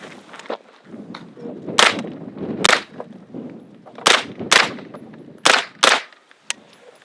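Sharp handgun shots ring out during a shoot/no-shoot firearms drill on a range, about eight loud cracks in quick pairs and singles with brief reverberant tails over a quiet background.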